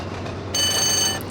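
Intercity 125 diesel train running in Trainz Plus, a steady low rumble that turns into a bright, sustained, tonal whine about halfway through and holds at a moderate level.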